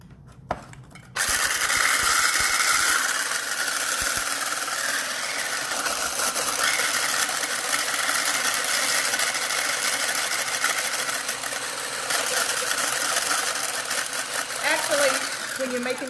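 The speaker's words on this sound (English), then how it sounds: "I'm going to put it on a higher speed." A Princess House 4-in-1 immersion blender whips meringue at high speed, its motor buzzing loud and constant after a brief start, with a short drop in pitch before it picks up again.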